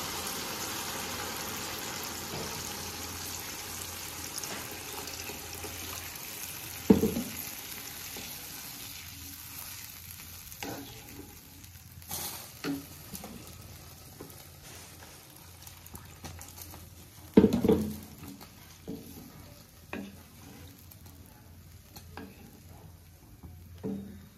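Fish curry with water added bubbles and simmers in a pan, a soft continuous hiss with a couple of sharp utensil knocks, close and fairly quiet with no talk.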